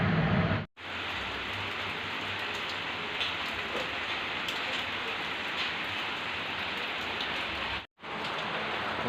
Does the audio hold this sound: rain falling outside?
yes